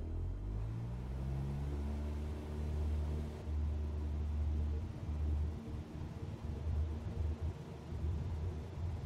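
Aircraft engine spooling up to full takeoff power in Microsoft Flight Simulator, a steady low rumbling drone with rising tonal hum that holds loud and continuous throughout, no voices.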